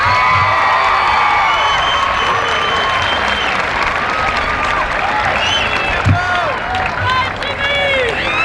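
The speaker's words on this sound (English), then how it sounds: "let's give all of the graduates a nice round of applause" Loud, sustained applause and cheering from a large audience at a 1995 high school commencement for graduating seniors, with some shouts mixed in and steady clapping throughout.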